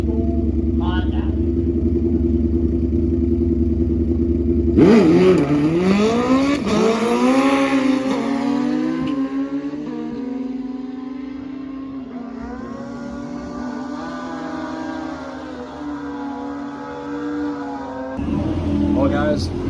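Old school Honda drag motorcycle launching down the strip, starting with a low idle, then a loud sudden rev and rising engine pitch through the gears, fading into the distance before more revving returns.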